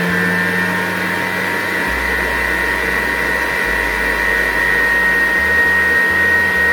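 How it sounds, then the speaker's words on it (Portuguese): An electric stand mixer whips cake frosting with a continuous loud motor whine. A steady low hum shifts in pitch several times as the speed changes. "Agora a gente vai ligar a nossa batedeira e vai deixar ela fazer todo o processo."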